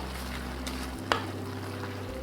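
Frozen peas are stirred into a one-pot vegetable buckwheat dish, a soft, steady sizzle and low simmer with a couple of faint spoon clinks against the pot.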